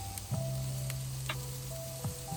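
Meat and vegetables such as zucchini and eggplant sizzle quietly on a barbecue grill in a backyard garden, a soft steady hiss with a few faint clicks and tones.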